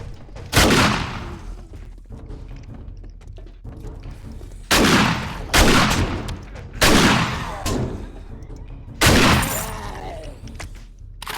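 Rifle shots ring out in the zombie survival game 7 Days to Die, four or five loud, sharp reports spaced a couple of seconds apart, each with a short rumbling tail, over a steady low background.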